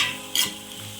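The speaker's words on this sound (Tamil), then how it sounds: "பூண்டு பாருங்கள், இப்போ போட்டு செகண்டில் நல்லா மொறுமொறுன்னு ஆகிடுச்சு" Garlic fries crisp in a hot kadai with a soft, continuous sizzle, broken by one brief stirring scrape near the middle, heard close and without voices.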